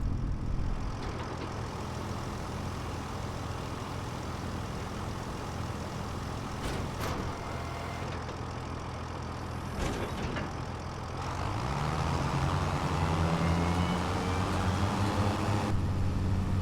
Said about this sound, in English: Oh, I can hear that spooling up. Listen to the engine.